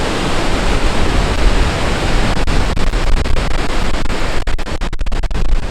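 A roaring waterfall in Iceland fills the air with a loud, constant rush of falling water, broken by a few faint crackles.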